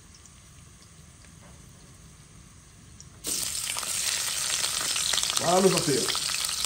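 Onions frying in a hot pot for a Réunion-style carry bichique, a sudden loud broadband sizzle bursting in partway through and holding steady, with a brief clank and a short spoken line over it.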